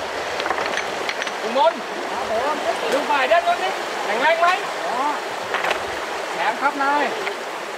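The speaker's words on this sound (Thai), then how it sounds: "เขื่อนเสร็จแล้วเวลาเทน้ำเลยนะเวลาเป็นคนเปิดประตูเขื่อนเอง" Water rushes steadily through an opened dam gate in a constant broad wash, while people talk over it throughout.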